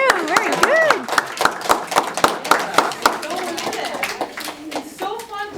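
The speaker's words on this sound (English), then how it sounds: "Yeah, big round of applause for you." Audience applause after a musical performance, sharp hand claps at an uneven pace with chatter mixed in, close and moderately loud, tapering toward the end as talking takes over.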